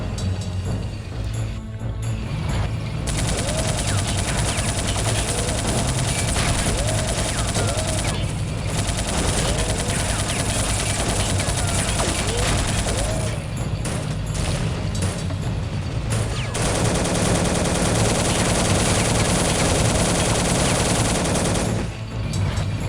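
Machine gun fire and other shooting crackle through a World War II battle in the strategy game Soldiers: Heroes of World War 2, with dense rapid bursts, booms and continuous combat noise that hardly lets up.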